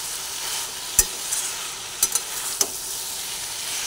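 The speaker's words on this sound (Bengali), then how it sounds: "সবজিগুলো দিয়ে এবার ভালোভাবে আবার নাড়াচাড়া করে নিচ্ছি।" Vegetables stirred in a hot frying pan, a steady loud sizzle with a few sharp scrapes and knocks of the spoon against the pan.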